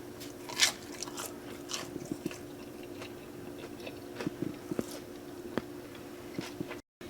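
Someone bites into and chews a moist, bread-like side dish served with Southern ham and beans. A few soft crunches and wet chewing sounds come close-up and quiet, with no talking.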